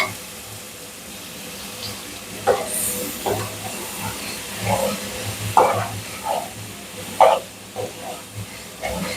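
Ground ginger, garlic and onion paste cooking in hot oil in a pan, a low steady hiss broken by occasional louder sputters and stirring scrapes, with no talk.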